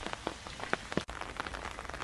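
Rain falls steadily at the Shanhaiguan section of the Great Wall on a hot, muggy day, a soft continuous hiss broken by scattered nearby drips and taps, with no voices.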